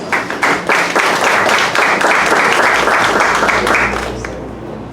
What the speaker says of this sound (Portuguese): uma salva de palmas, né, pessoal, para a Creche das Irmãs